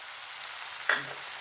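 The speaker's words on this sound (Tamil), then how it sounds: "இது நல்லா வெந்துக்கிட்டு இருக்குது" Raw papaya pieces with salt cook in a pan over a low flame, giving a steady soft sizzle with one brief scrape of stirring near the end.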